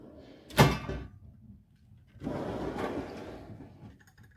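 A metal toolbox drawer holding punches, chisels, scrapers and files opens or shuts with a quick sharp clack, followed by a longer rolling slide.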